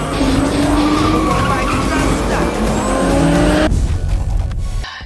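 Dodge Challenger roaring loudly with tires skidding and engine pitch climbing for several seconds, then cutting off abruptly into quieter rumble near the end.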